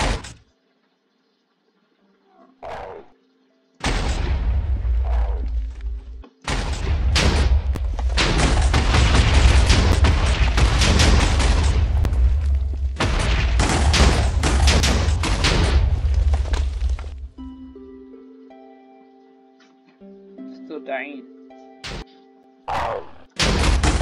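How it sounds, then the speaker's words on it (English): Heavy booming cannon blasts in Minecraft (Hexxit modpack) in long roaring bursts, separated by short silences, with scattered thuds and clanks near the end. "This is a very powerful cannon."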